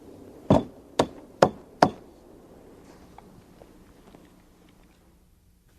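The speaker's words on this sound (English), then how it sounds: "a little cleanup with the chisel" A chisel strikes wood four times in quick succession while cleaning up a saw-cut dado for a deck rail, sharp close knocks followed by quiet, with one more hit at the end.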